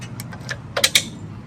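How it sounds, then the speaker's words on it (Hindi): A key slides into a motorcycle ignition, heard as a few quick, close metallic clicks and jingles against faint background noise. "चाबी लगा दूँ।"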